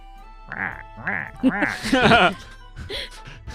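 A voice imitates a crow's cawing with a string of nasal, quacking calls, rising into a laughing flurry, then a couple more caws.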